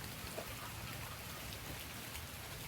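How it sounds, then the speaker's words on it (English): Steady rain falling on a rainy afternoon in South Georgia, a soft, even hiss of drops on surfaces, faint and continuous with no voices. "now it's a rainy afternoon in South Georgia"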